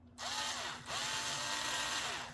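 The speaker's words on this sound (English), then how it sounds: "it's like drilling it, but it's more like reaming it and cleaning it." A power drill whirs as it reams and cleans out a part of a dual-motor DD40 model locomotive, two high, steady spinning bursts with a brief dip between them, close and loud, with no talk.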